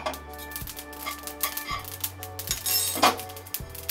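Fennel and flax seeds roasting over a low gas flame, stirred in a pan: continuous light clinking and scraping with a steady tonal hum underneath.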